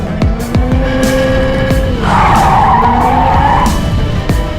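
A Hyundai RN22e electric performance car corners hard, tires squealing and skidding loudly, with a rising whine and a sustained screech in the middle of the run.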